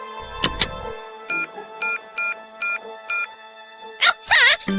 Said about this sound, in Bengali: এই রে বড় বাবুর ফোন।